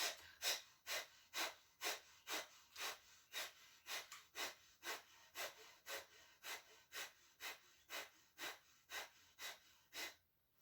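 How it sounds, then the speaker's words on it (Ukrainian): A series of about twenty sharp, forceful exhalations through the nose in a quick, even rhythm, close and fairly quiet. "дихаємо капалабхаті 20 інтенсивних видихів"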